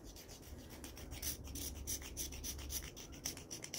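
A ferrocerium fire-starter rod has its black coating scraped off with a semicircular striker, giving steady close rasping strokes that repeat in quick succession for several seconds, with no talking.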